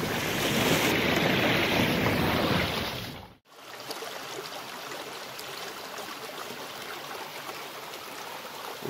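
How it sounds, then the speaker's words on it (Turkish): A flowing stream on the path to Kocaçay waterfall in Döşemealtı, its steady broadband rush loud and close for about three seconds before dropping abruptly to a softer, continuous flow. "Bu suyun devamında daha şiddetli bir şekilde su sesi gelmeye başladı."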